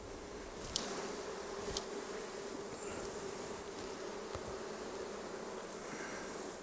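Honey bees buzz steadily around a wild hive inside an old abandoned car, a dense, continuous swarm drone with occasional louder passes of individual bees close by.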